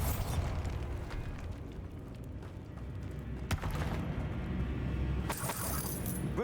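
A Bombarda explosion spell goes off in Hogwarts Legacy, giving a dull booming burst that rolls out over steady game background noise, with a sharp crackling blast near the middle and a brighter burst toward the end.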